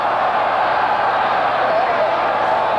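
A stadium crowd chants and roars at a 1978 Raiders-Patriots football game, a steady, dense wash of many voices sustained from start to finish with no pauses.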